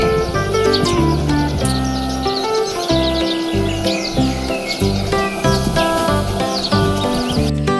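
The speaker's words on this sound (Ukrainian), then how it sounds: "Воробець цвірінькає, коли йому весело." Sparrow chirping, bright repeated tweets and short calls scattered over a layer of music, fairly loud and close throughout.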